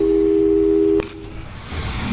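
A Portal 2 phone line tone sits steady and loud for about a second, then cuts off abruptly into a soft hiss that swells near the end.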